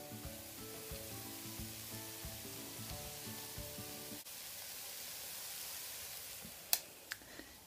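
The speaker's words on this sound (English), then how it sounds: "I'm making omelette with some sausage in it" A sausage omelette fries in a pan, giving off a soft, even sizzle with music underneath at first, then the hiss continues alone and a couple of sharp clicks land near the end.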